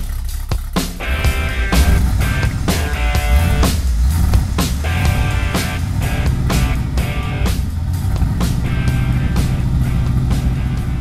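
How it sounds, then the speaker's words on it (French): A V8 car engine runs loud and close, its deep rumble steady throughout with repeated sharp transient knocks and rattles, and no voices over it. "j'aime entendre le bruit des V8"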